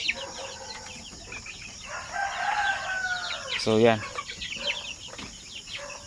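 A rooster crows loudly nearby amid clucking chickens being conditioned for shipping, with a person speaking briefly at the start.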